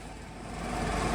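An Italian Rambaudi double-spindle vertical and horizontal milling machine runs its spindle at 510 rpm, giving a steady broadband mechanical whir that swells slightly louder over a second, with no voices.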